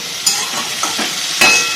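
Paneer and vegetables, including cauliflower, fry in a covered pan for a Bengali paneer navratan korma, giving a steady sizzle with a few sharper scraping stir clatters near the start and end.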